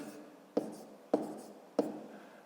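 A pen taps and scratches on paper while numbers are written by hand, with three sharp soft taps at an even pace, faint and close in a quiet room.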